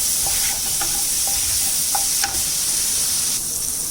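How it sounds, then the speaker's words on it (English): Masala frying in a pan while being stirred, a loud continuous close sizzle with scattered light scrapes and clicks of a spoon against the pan. "And now we have to mix nicely. Okay, don't let the masala burn."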